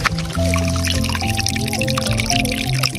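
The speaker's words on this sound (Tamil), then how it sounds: "தண்ணி விடுற சத்தத்தை கொஞ்சம் எண்ணி பாருங்க." Water pours and gurgles steadily into a paddy field nearby, with a few tonal hums layered over the continuous flow.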